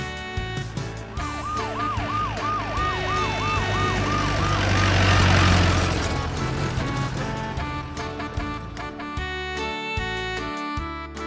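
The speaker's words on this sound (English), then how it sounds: "Black police car." A police car siren wails in a fast, repeating up-and-down cycle over a rumbling engine, swelling loud as the vehicle passes close and then fading, with no voices.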